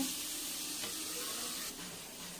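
Seasoned egg omelette mixture sautéing in a pan, a steady soft sizzle with a faint hiss that holds evenly and dips slightly near the end, close but quiet.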